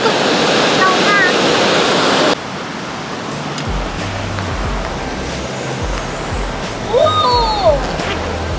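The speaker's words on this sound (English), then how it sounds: "So this is Holley Falls." Waterfall at Holley Falls roars as a loud, close, steady wash of white noise for about two seconds, then cuts to a quieter outdoor hush with a few bird chirps and whistles toward the end.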